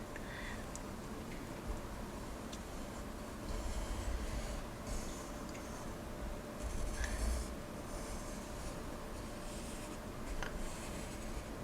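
Pencil sweeping continuous looping strokes across white paper, a soft steady scratchy rubbing that swells in a few louder passes, close and quiet with no talk.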